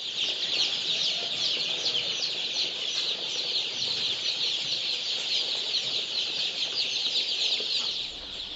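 Gramapriya hybrid country chickens, a heavy egg-laying breed, fill the air with a dense, continuous chorus of high cheeping and clucking, close and steady throughout.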